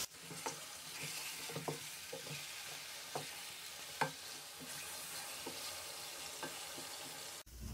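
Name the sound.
chicken frying and being stirred in a kadai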